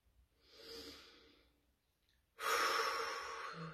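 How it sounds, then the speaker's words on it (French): Two deep, slow breaths close to the microphone during a calm guided meditation, a soft airy inhale that fades out, a short pause, then a louder, fuller breath. "De prendre 2-3 grandes respirations."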